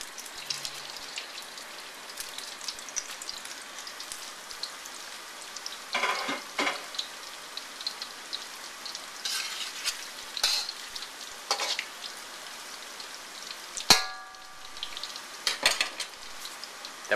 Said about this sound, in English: So I'm going to carefully slide this pork off into the oil.